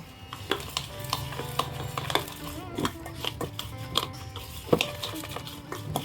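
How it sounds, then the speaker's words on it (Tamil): Millet flour and jaggery for thinai laddu are stirred together in a pan, giving close scraping and clinking of a spoon against metal in an uneven rhythm over a soft background hiss. "மாவு அதுவும் ஒன்றாகிற மாதிரி கிளறி விட்டுக்குவோம்."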